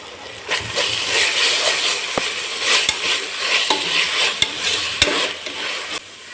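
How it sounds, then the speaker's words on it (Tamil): Ginger garlic paste being stirred in a frying pan for peas pulao, a steady sizzle broken by sharp spoon knocks against the pan at irregular intervals. "இஞ்சி பூண்டு பேஸ்ட்டு சேர்த்தாச்சு அதை கலந்து விட்டுக்கணும்"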